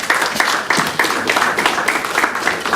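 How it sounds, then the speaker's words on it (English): An audience at an art law talk gives a round of applause: close, dense clapping with a few rhythmic surges, lasting throughout. "A round of applause, please."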